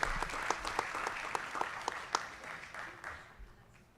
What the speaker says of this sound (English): let's give another round of applause for our ASA All-County Art students.